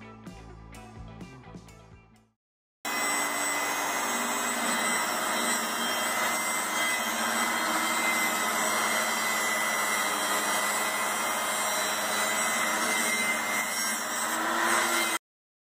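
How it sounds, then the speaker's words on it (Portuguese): A car wheel is cut in half with a power cutting tool in a home garage while building a Formula 1-style car, giving a loud, steady, continuous grinding whine that runs unbroken for about twelve seconds after a few short knocks. "esse vídeo anterior mostra a gente cortando a roda ao meio"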